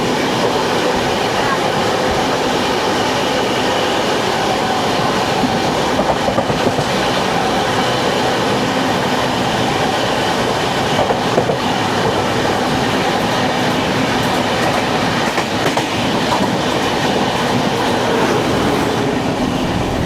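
The Kerala Express, a train with LHB coaches, rumbles past at a station in a continuous loud rolling wash with faint clickety-clack of wheels, steady for the whole stretch.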